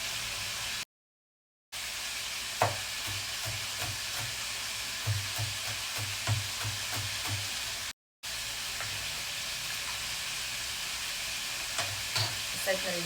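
Pork steak frying in a pan gives a continuous close sizzle, broken by repeated clacks and scrapes of stirring. The sound drops out twice briefly, and no one speaks.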